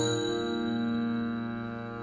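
A small bell rings once with a sustained, slowly fading metallic tone that hangs clearly for about two seconds, alone and fairly close, with no voices.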